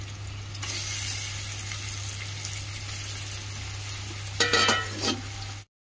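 Chicken with turmeric sizzles steadily in a frying pan for a green chicken curry, with a low hum underneath and a few louder stirring scrapes, the strongest near the end before it cuts off.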